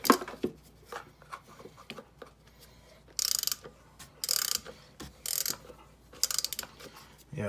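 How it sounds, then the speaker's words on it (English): Mechanic's wrench tightening a fitting on a 1984–1987 Honda Civic, giving several short ratcheting bursts close by, spaced irregularly with pauses and light handling clatter between them. "we'll get the old trusty wrench in there."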